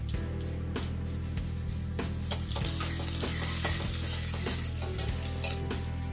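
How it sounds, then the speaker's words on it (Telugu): Green chillies fry in oil with garlic and curry leaves, giving a loud continuous sizzle near at hand, broken by rhythmic scraping stirs of a spoon against the pan. "వెల్లుల్లి కొంచెం కలర్ చేంజ్ మిర్చి వేయాలి"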